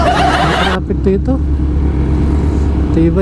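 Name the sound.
street traffic with cars and motorcycles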